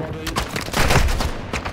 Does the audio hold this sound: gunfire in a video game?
yes